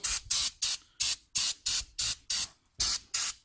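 Brake cleaner sprays onto BMW front brake parts in about ten short, sharp hissing bursts, evenly spaced, loud and close, with no talking.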